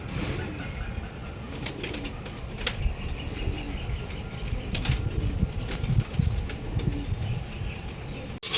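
Racing pigeons released at a club training in Gumaca, Quezon, wings flapping in a busy flurry of soft beats and rustles, some cooing mixed in, over steady outdoor background.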